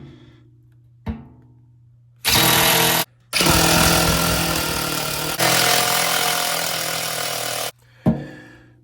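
A power drill boring holes into the metal housing of a Coleman air conditioning unit, running in loud sustained bursts with a short pause between the first and second run and clicks before and after.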